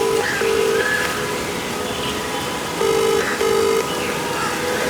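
Phone ringback tone on an outgoing call, two pairs of short beeping rings a few seconds apart, heard through a speaker over a steady hissing room background.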